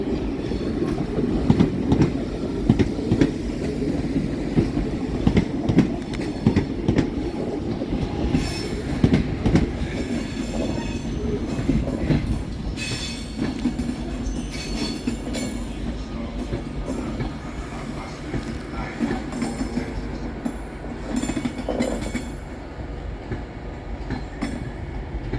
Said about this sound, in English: Whilst arriving to terminate with a Northern service off of Crewe